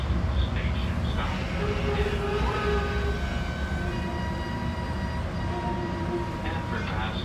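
A GO Transit passenger train runs with a steady broadband rumble and rolling wheel noise from inside the car, holding a constant level throughout with faint voices in the background.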